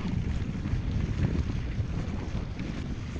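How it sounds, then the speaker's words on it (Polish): Strong wind buffets an outdoor microphone on a cold day, a continuous rough low rumble with gusty surges and no voices. "Tylko, że najgorszy jest ten wiatr."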